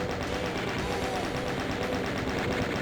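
Several chaingunner enemies in a Doom game fire chainguns together, a dense, steady rattle of rapid gunfire that continues without a break at a loud, even level.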